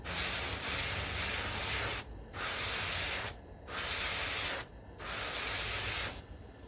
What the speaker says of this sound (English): The more I pull the trigger back, the more paint will flow through the airbrush.